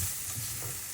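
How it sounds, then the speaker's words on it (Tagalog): Champignon mushrooms fry in a pan with a steady, dense hiss of sizzling that fills the moment, close and even, with no voices over it. "luto na atong champignon"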